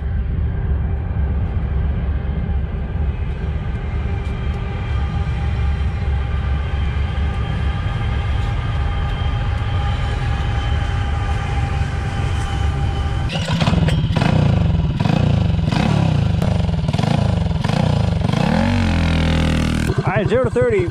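A Tillotson 225 go-kart engine fitted with 1.2 ratio rockers idles with a steady buzzing drone, then revs hard with rising, wavering pitch as it accelerates, loud and close, with talk over parts.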